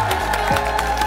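Studio audience applause on a Korean TV variety show, a short burst of steady clapping that fills the room over a bed of musical tones.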